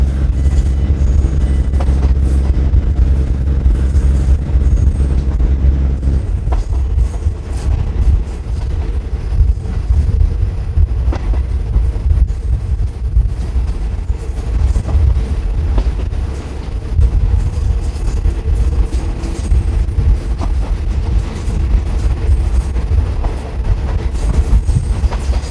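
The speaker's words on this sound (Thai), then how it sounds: "ด้านบนก็จะเป็นเส้นทางรถไฟฟ้านะแอร์พอร์ตเรลลิง" An Airport Rail Link electric train runs along an elevated track near Lat Krabang, giving a loud, steady rumble with rhythmic wheel clatter that carries through the whole passage, with no talking.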